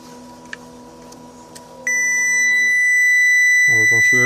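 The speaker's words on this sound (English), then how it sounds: "you can hear the typical beep of shortage" A multimeter's continuity beep sounds as the probes touch a shorted diode on a Samsung LN55C650 TV board: a sustained electronic tone starts partway through and holds steady, with a faint low hum and clicks beforehand.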